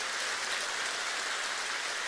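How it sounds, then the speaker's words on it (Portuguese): A church congregation applauds together in a dense, even wash of clapping that holds steady at moderate volume, with no voices standing out. "Então você pode aplaudir Jesus por alguma coisa."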